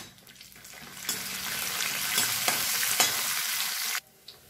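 Cashews and almonds roast in hot ghee for carrot halwa, giving a close, steady sizzle with stirring that swells midway and then cuts off abruptly near the end, with no talking.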